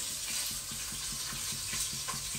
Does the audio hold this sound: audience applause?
no